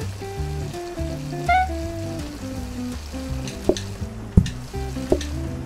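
Food frying in a kitchen in the cooking game PlateUp!, a soft sizzle underneath tonal game music and a few sharp clicks and pings, with no talk.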